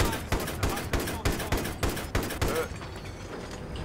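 Rapid automatic gunfire from a Battlefield 3 Rush match, in steady bursts of sharp shots for most of the moment before cutting off into low background rumble, with a voice talking faintly underneath.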